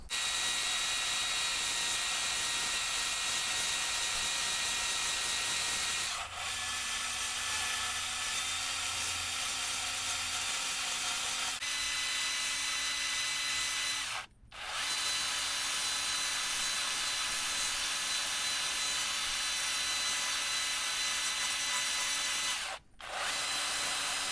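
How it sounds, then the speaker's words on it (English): A chainsaw with a dime tip bar carves a small wooden ghost, its engine running loud and continuous at high revs, the pitch shifting as it cuts, with two brief cutoffs where the chain stops for a moment. "Use the dime tip bar and kind of carve these spots out."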